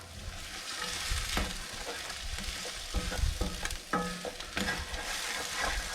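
Egg is stir-fried and chopped into small pieces in a hot pan for fried rice, with a continuous loud sizzle broken by scraping and tapping strokes of the spatula against the pan.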